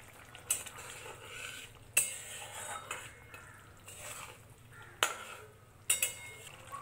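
Chopped coriander leaves go into a simmering sea fish curry over low heat, with a spoon or spatula clinking sharply against the pot several times over a soft, steady bubbling.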